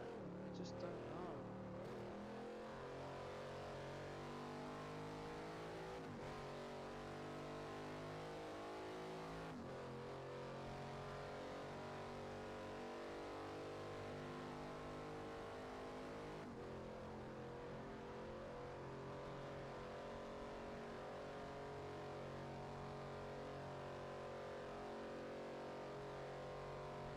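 Race cars in Forza Motorsport 4 roar continuously at close range, engines revving and shifting gears as they run around the track, with a voice speaking over the engine noise.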